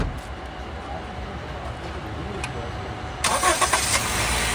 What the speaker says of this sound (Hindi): बाहर से भी आपको दिखाता हूँ सेल्फ मार के स्टार्ट करके।